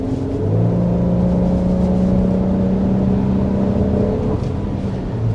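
2025 Infiniti QX80 engine accelerating, heard from inside the cabin: a loud, continuous rising engine drone with a smooth tone that climbs in pitch through the gears, with no talk over it.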